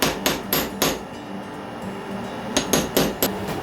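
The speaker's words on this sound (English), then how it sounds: "Now we have to use a punch tool to prepare for the drilling." A metal punch tool is struck with a hammer on Purple Heart wood to prepare for drilling in necklace making. Three sharp ringing blows come in quick succession, then a pause, then four more close, crisp strikes.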